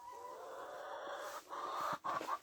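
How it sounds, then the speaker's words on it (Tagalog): Backyard chickens in a snowy garden make soft, faint clucking and breathy calls at close range, with brief pauses and no talking. "Ayan yung mga manok."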